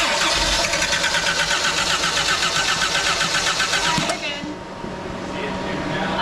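Jeep CJ7 engine with a small fuel leak cranking and catching, a loud broadband mechanical roar for about four seconds that then drops to a lower steady running tone; a voice talks over it.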